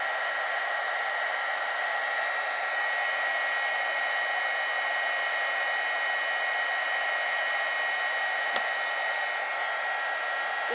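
Steady, continuous blowing whir of a heat embossing gun warming a porcelain ornament, loud and unbroken throughout with no talking.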